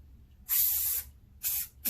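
Rust-Oleum aubergine spray paint hisses from an aerosol can in three bursts, a long spray, a shorter one and a brief final one, close and loud with quiet gaps between.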